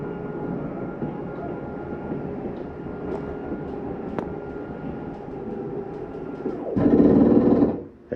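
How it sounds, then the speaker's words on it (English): Slide-out room on a 2020 Forest River Sierra 3550FL fifth-wheel RV retracting, a steady mechanical motor drone that swells into a louder grinding burst near the end as the slide reaches fully in, with no talking. "It almost sounds like something grinding when they come in. That's the slide mechanism telling you that it's all the way in."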